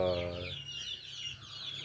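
KUB-2 kampung chickens, an improved native Indonesian breed from Balitnak, cluck softly in a poultry farm, with low, close clucks at the start and quieter bird chatter after, fairly faint overall.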